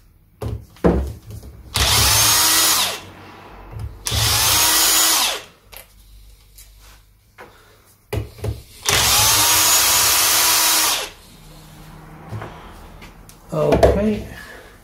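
A power tool spins out Allen screws from the edge of a gearbox cover on a Triumph Trident T150V motorcycle engine, in three sustained whirring bursts separated by clicks and handling noise, with a voice briefly at the end.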